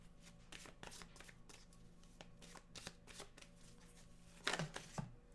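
Oracle cards are shuffled and drawn by hand, with quick repeated riffling flicks and soft card slaps close by at low volume, then a couple of sharper taps near the end.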